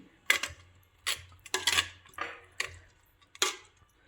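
A spoon knocks and scrapes around a pot of amla morawala after cardamom powder goes in, making about seven short, separate clinks and scrapes with quiet gaps between them, close and fairly soft.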